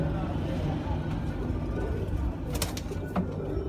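Sialkoti pigeons, a breeding pair, give soft low cooing close by under a busy background with a car passing, while someone talks over them.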